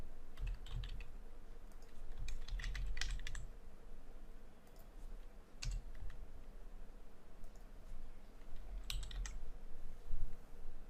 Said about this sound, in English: I'm clicking with mouse here and I'm typing the text.